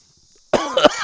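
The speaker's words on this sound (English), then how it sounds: "I coughed mostly because I just didn't quite get enough out before I did that." A single sharp cough bursts out right after a cigar retrohale, close and loud, following a moment of near silence and ending with a brief throaty rasp.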